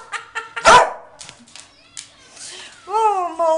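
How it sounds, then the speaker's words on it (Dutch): A dog barks in a home, giving a few sharp yips and one louder bark, then a whining, rising yelp, mixed with a voice talking nearby. "Oh, malle hond. Dat doet hij anders nooit, hè? Hij blaft niet zoveel."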